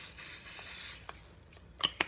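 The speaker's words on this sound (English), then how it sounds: "Use cooking spray and spray the pan." A close, hissing spray of cooking spray onto a pan lasts about a second, followed by quieter rustling and a couple of light clicks.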